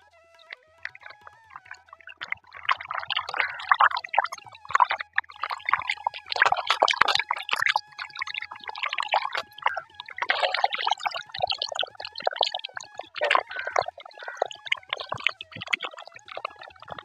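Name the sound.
rinsing freshly picked coriander in water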